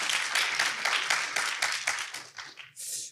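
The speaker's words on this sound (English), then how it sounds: "yes, applause." Audience applause at a conference poster presentation session, a few seconds of steady close clapping from a crowd that thins out and fades at the end.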